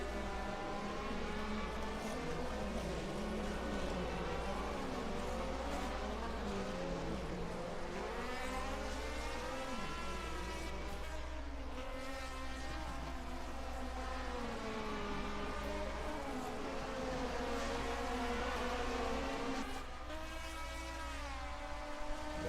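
Racing cars of the 1979 DRM Division 2 series lapping a circuit, a continuous engine drone with several cars rising and falling in pitch as they pass, moderately distant.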